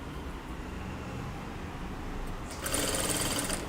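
Sewing machine stitching the sleeves of a kurta, a steady low whirring hum that turns brighter and louder in the last second as the stitching speeds up, heard alone without talk.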